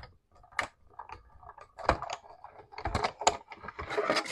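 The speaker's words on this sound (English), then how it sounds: "I'm going to just lay his hat on there and run these through the die cut machine." A manual die cut machine cranks card stock through with irregular ratcheting clicks and mechanical rattles, close and fairly quiet, with no talk.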